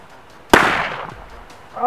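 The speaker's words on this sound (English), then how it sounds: "I think I'm gonna take a few shots standing" A single sharp gunshot from a scoped revolver fired at a target, loud and close, with a decaying echo afterward and a voice starting at the end.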